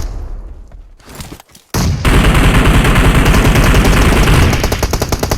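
Loud, rapid machine gun fire in the video game PUBG on the Erangel map. A few scattered shots come first, then a dense continuous burst fills the rest close up.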